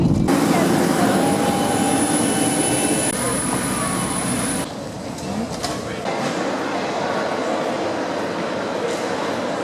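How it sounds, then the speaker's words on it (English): Airplane arriving at Faro airport, a loud steady jet engine roar with a high whine that cuts off partway, then continuing cabin rumble, close and constant with no clear talk. "And here's the plane arriving into Faro."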